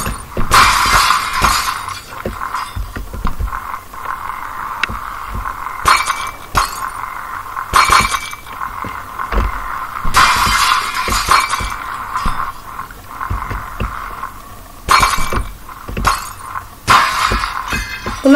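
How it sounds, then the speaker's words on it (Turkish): Glass panes shattering in the Happy Wheels video game, repeated loud crashes and tinkling breaks coming in irregular bursts across the stretch, with no talk over them. "Bunlar da çabuk kırılmıyor şu camlar."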